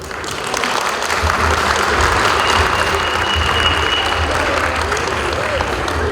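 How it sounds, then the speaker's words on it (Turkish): Audience applause at a Valentine's Day pop concert in Fethiye, a thick, continuous wash of many clapping hands that swells in early on and holds steady throughout. "Sizin de o güzel alkışlayan elleriniz dert görmesin."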